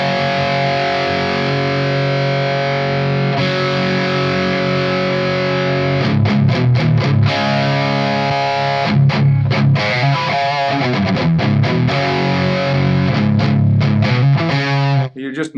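A heavily distorted electric guitar, mids cut with a BOSS GE-7 EQ pedal, plays sustained chords and choppy riffs, sounding thin and scooped in the middle, loud and close with no voices.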